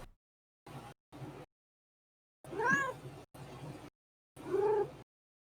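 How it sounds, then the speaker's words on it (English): A cat brought up close to a microphone meows several times in short separate calls with silence between, loud and near. "he's bringing his cat to the mic"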